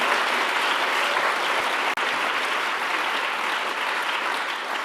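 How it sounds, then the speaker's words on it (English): A steady wash of audience applause at a creative climate movement event, dense and even for several seconds, with one brief dropout midway and no talking over it. "you want to give them a round of applause"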